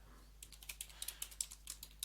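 Someone types a command on a computer keyboard, a quick run of about fifteen light key clicks in an irregular rhythm, faint and close over a low hum.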